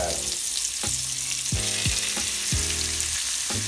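Shrimp sizzling in hot brown butter in a pan, a loud, steady frying hiss with occasional pops and scrapes of stirring, close up and without talk.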